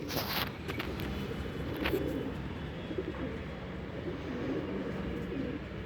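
Ferozpuri pigeons coo softly and continuously at a moderate distance, their low murmuring steady throughout, with a few faint higher chirps near the start.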